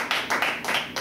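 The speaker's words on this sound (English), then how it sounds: "Let's give God a hand clap of praise." A church congregation claps their hands together in praise, a dense burst of rhythmic clapping in a few swelling waves, close and fairly loud throughout, with no talk.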